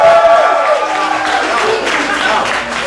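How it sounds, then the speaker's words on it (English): Comedy club audience clapping and cheering during a stand-up set: a loud, steady wash of applause mixed with crowd voices and whoops, with speech layered over it. "No, don't clap. Don't clap."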